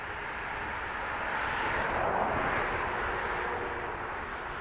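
A turboprop aircraft, an ATR, at Dublin Airport gives a steady, broad engine roar at middle distance, swelling slightly near the middle of the stretch before holding level, with no talk over it.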